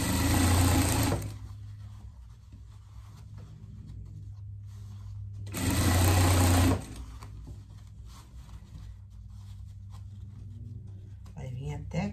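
A sewing machine stitches a pet vest in two close, rapid bursts about a second long each, separated by a person talking in a quiet room.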